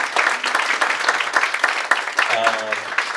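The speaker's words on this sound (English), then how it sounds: "give one last round of applause, of course, to Leif" Bookstore audience applauding author Leif Enger at an in-store event, a steady wash of many hands clapping with a voice briefly speaking over it near the end.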